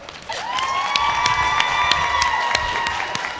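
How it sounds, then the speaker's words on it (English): A convention panel audience claps and cheers for voice actor Eric Vale, a dense, sustained wave of applause and shouts, with a bright whistle-like tone running through the middle. "Big round of applause for Eric Vale."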